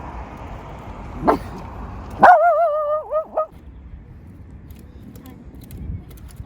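A single dog yelp-like bark rings out briefly after a sharp thump, then fades into quiet room noise.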